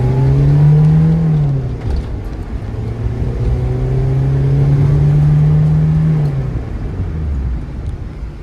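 Non-turbo 70-horsepower diesel engine in a 4WD Toyota Corolla accelerating at full throttle, a steady loud drone rising in pitch, easing off briefly and then climbing again.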